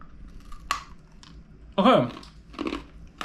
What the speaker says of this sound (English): so this is freeze dried. I would assume it would be really crunchy.